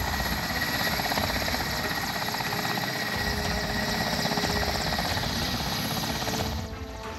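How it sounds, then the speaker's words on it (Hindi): A Mi-17 army helicopter descends close to the ground during an India–Thailand military exercise, its engine and rotor making a loud, steady drone for the whole stretch with no talk. "इन तस्वीरों में आप देख सकते हैं कि कैसे धीरे धीरे करके हेलीकॉप्टर आसमान से जमीन के करीब लाया"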